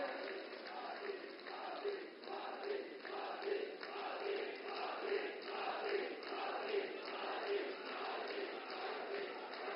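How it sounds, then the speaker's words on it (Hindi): A large crowd at a political rally in Sagar, welcoming Prime Minister Modi, claps and cheers in a dense, steady wash with a loosely pulsing rhythm throughout. "जोरदार ताली बजा करके आप उनका वंदन करें"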